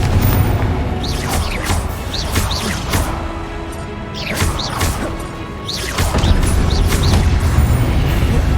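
Repeated Confringo blasting spell explosions in the video game Hogwarts Legacy, loud booming crashes with whooshing casts and rising tones, several bursts in quick succession over continuous game sound.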